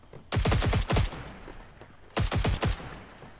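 SMG gunfire in the PC shooter Cyber Hunter: two rapid bursts of about four or five quick shots each, loud and close, with a short pause between them.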